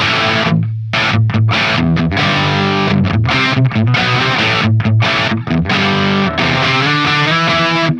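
Electric guitar played through the Tonocracy amp simulator with heavy distortion and reverb, loud chugging riffs with choppy rhythmic stops and sustained chords ringing out in a wash of reverb.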